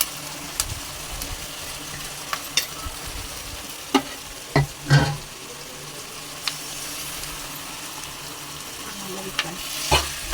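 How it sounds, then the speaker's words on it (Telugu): Marinated fish pieces fry in oil for a Telangana-style fish curry, a constant close sizzle punctuated by sharp spoon knocks and scrapes as they are stirred, with no talking. "ఆయిల్లో అయితే వేసి కలుపుతున్నానండి"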